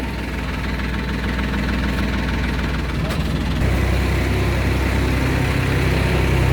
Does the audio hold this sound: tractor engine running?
yes